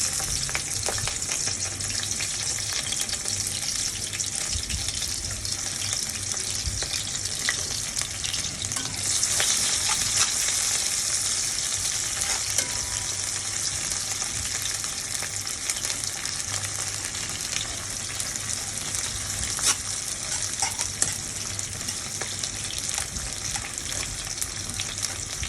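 Onions frying in a pan for a curry, a steady bright sizzle holding for the whole stretch with faint stirring scrapes underneath and no talking.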